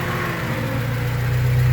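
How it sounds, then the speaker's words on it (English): An upgraded radiator fan on a Honda Del Sol runs steadily with a continuous whirring drone, heard alongside the idling engine's low hum at close range, with no talking. "The radiator fan just kicked on."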